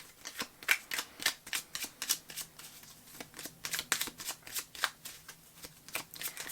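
Tarot cards being shuffled by hand in a quiet room: a long run of crisp, rhythmic riffling bursts, close and clear, repeating at a steady pace with no talking.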